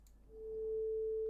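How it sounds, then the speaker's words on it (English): A lone FL Studio 3x Osc synth tone with a volume envelope, swelling gradually from near silence to a steady, sustained pure pitch over about a second. "instead of coming in immediately like that, it kind of fades in."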